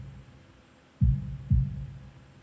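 Two deep heartbeat thuds from the Katawa Shoujo visual novel, close and muffled over a low steady hum, a lub-dub pair about half a second apart with no voices.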